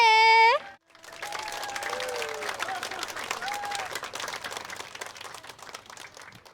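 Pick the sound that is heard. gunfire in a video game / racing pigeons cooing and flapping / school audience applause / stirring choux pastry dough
school audience applause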